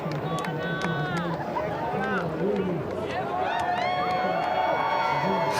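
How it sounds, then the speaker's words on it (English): A surf contest crowd in the Red Bull Athlete Zone at J-Bay cheers and whoops steadily while hands bang on chairs, with voices shouting and chattering throughout a dense, continuous roar. "The Red Bull Athlete Zone is cheering, hitting the chairs as he walks up"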